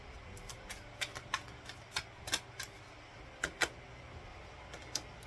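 A deck of tarot cards is shuffled by hand, producing quiet, irregular snaps and papery clicks spaced across a few seconds over a soft room hush.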